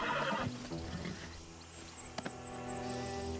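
A horse in the video game Red Dead Redemption 2 gives a short, close whinny right at the start, then soft hoof and gear sounds follow over quiet in-game ambience.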